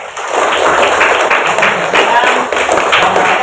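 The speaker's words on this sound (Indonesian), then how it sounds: "Tepuk tangan untuk kelas 5." A Grade 5 class of schoolchildren claps together in a classroom, loud, close, rapid hand claps sustained for a few seconds with a bright steady texture.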